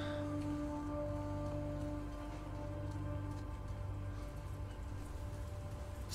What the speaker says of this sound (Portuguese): Chuva acalmou, pelo menos.